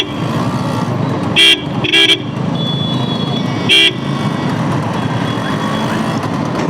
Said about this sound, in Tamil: ஹார்னிங்.